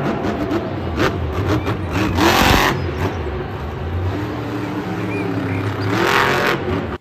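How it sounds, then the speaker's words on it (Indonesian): Toy-style monster truck engine revving steadily at close range, with a louder surge of revs around the middle and again near the end, running continuously without any talk. "Wow, yang ini ada mobil monster teman-teman."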